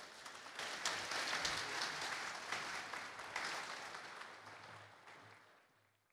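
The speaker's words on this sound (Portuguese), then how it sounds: "Aplausos a esses..." Audience applause for a minister's arrival at a cooperative meeting in Medianeira, Brazil, fairly faint and distant, swelling early and then gradually fading out.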